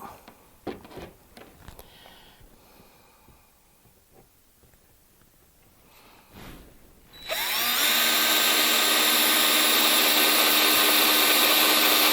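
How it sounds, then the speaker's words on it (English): A power drill bores a hole into an arcade cabinet to fit a 1 1/8-inch high-security tubular lock. Quiet handling noises come first, then the drill cuts in with a loud, steady, high whine that runs to the end. "now we're ready to drill it."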